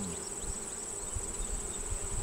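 Honey bees hum steadily inside a 10-frame hive during an inspection, a dense continuous buzz close by with occasional individual bees whining past.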